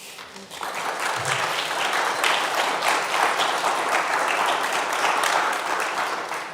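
A church congregation claps together at a Sunday service, loud, sustained applause that fills the room for several seconds after a brief quieter start.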